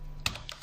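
A few computer keyboard keystrokes while entering code, one crisp click followed by two or three softer taps in quick succession over a low background hum.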